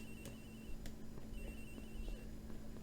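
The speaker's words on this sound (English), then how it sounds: "Agent Hicks' phone. It's ringing from somewhere, sir" A phone rings in the Ace Attorney Investigations video game, a steady electronic ringtone with repeating chirps over a low constant hum, moderately quiet throughout.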